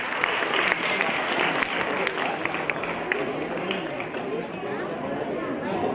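Audience applause for qualifying school teams at an Urdu high school Islamic quiz contest, steady crowd clapping throughout with faint chatter mixed in.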